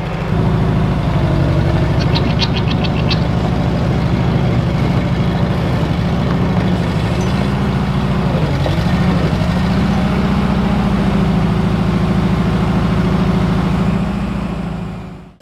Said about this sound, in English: Here comes the truck to get the lift.